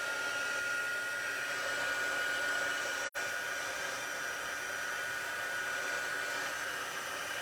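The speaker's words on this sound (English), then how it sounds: "heat emboss it with my heating tool" Heat embossing tool blowing hot air steadily onto a card during a cardmaking class, a continuous close, even hiss with one brief cutout partway through and no talking.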